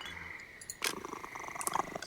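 A cat purrs in a video game as it rubs its face against the player's leg, a soft steady rumble under faint game ambience.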